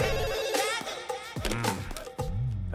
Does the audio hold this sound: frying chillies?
no